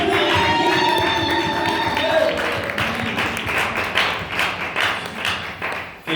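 A church congregation applauding, dense rapid clapping from many hands that thins into scattered, uneven claps toward the end, with voices and tonal sound mixed in early on.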